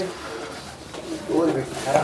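Soft cooing from a female pigeon in a coop, brief and close, rising near the end under a low background.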